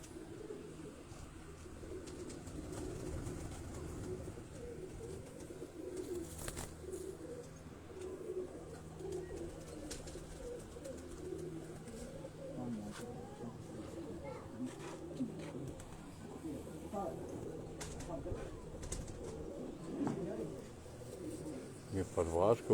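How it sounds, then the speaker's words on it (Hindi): Parwaz breed pigeons from Ustad Akhlaq Ahmad Khan's line coo softly in a loft, a continuous low warbling chorus alongside occasional chirps, with people speaking quietly at times in the background. "ये उस सनत से ये आपको ये कबूतर हम दिखा रहे हैं"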